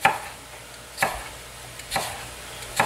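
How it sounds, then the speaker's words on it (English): A knife cutting potatoes into julienne strips for French fries on a cutting board; four crisp, evenly spaced chops about a second apart, close and clear, with no talking. "I'm going to do like a little julienne cut"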